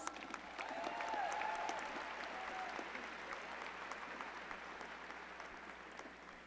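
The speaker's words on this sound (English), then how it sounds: "Let's give them one more round of applause." Applause for undergraduate psychology award recipients at a commencement ceremony, a soft, distant crowd clapping steadily and slowly fading, with a faint whistle-like tone early on.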